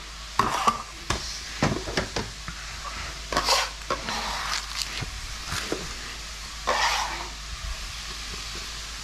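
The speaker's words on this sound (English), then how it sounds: "we're gonna let that saute down a little bit" Ingredients for Portuguese caldo verde sauté over medium-high heat in a pan, with a low sizzle broken by repeated scraping stirs and clinks of a utensil against the pan, close and uneven, with no talk.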